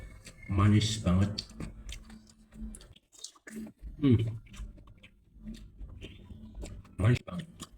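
Someone chews and bites on sweet, crunchy satay close to the microphone, with soft mouth clicks and wet crunches between bursts of talk.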